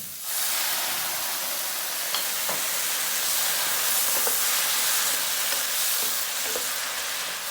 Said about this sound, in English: We are going to deglaze. That's 50 milliliters of white wine.